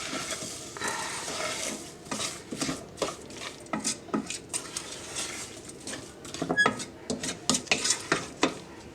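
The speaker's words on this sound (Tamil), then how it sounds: "சர்க்கரையை போட்டு கிண்டி விடும்" A spoon scrapes and clinks against a pot as sugar is stirred into zucchini chutney. The strokes come as quick, irregular bursts over a faint background hiss, and no one speaks.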